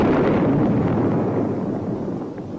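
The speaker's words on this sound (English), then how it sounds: "until the Bullpup strikes the target" A Bullpup air-to-surface missile strikes its target with a loud, sustained low rumbling blast that slowly fades, heard alone without voices.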